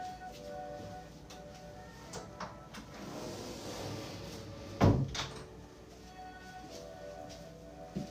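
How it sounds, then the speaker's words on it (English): A bedroom door swings shut with one sharp, fairly close thud midway, set among quieter household shuffles and small knocks, no voices. "Should close my door."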